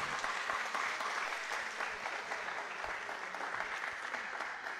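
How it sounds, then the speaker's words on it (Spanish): Soft, steady applause from an audience at a poetry recital welcoming invited poets to the main table, a continuous even wash of clapping heard at a distance. "Un aplauso para ellos."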